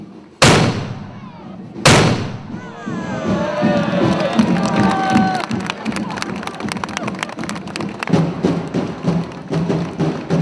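Soldiers fire a cannon during an Italian festival, two loud sharp blasts in quick succession followed by a cheering, shouting crowd and whistles.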